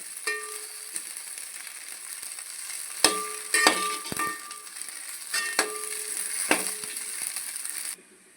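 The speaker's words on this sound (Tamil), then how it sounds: "பொன்னிறமாக நல்லா வதக்கிக்கோங்க." Onion and tomato sauté in oil in a pan for a tamarind okra curry, a steady hiss of frying with a few scattered clinks and scrapes of stirring, close by, ending abruptly.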